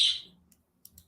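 A pet bird gives one bright, sharp chirp that fades quickly, followed by a few faint clicks and soft tweets in an otherwise quiet indoor room.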